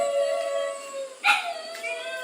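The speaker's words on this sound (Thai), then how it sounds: "ชบามุมหนึงสะดามุมหนึงแล้วก็ช่วยกันหอน แล้วมันโกงคอหอนเลย" Two dogs howling together in a chorus from different corners at the far end of a village at night, long sustained wavering tones held throughout, with a louder rising swell midway.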